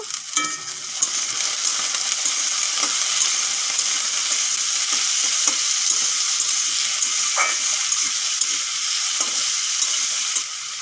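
Chopped potatoes go into a pan of oil with lightly softened onions and fry with a loud, steady sizzle, while faint scrapes and taps of a stirring utensil sound now and then; no talking.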